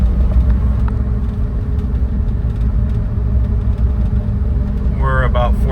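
A 1998 Suzuki Jimny with a K6A turbo engine drives through its gears, heard from inside the cabin as a steady, close engine rumble with a brief rising whine near the end.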